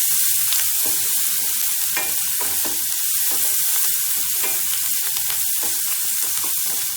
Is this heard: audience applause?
no